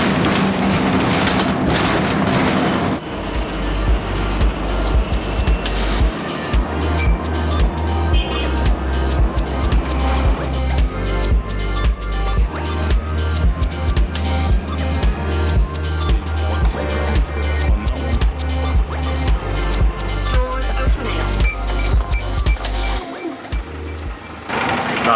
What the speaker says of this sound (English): Right at the back of the bus with them. You can hear the diesel.